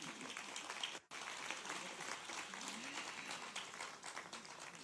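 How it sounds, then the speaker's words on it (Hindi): A crowd claps to welcome the chief minister at a public event, a dense, steady wash of applause lasting several seconds with a brief dropout near the start. "मोहन जी यादव जी के लिए जोरदार ताली के साथ स्वागत करें"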